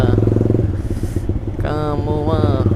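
A Honda CBR150R motorcycle fitted with an Austin Racing exhaust idles and revs close by, a loud throbbing engine note that climbs in pitch partway through, with someone speaking over it.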